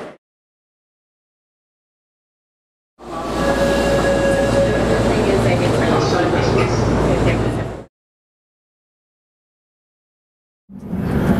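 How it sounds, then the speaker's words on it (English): Train in Japan rumbles past loudly for about five seconds, a steady roaring rush of rail noise that starts and stops abruptly, with silence on either side and more starting at the end. "I love being on the train because I never been on the train."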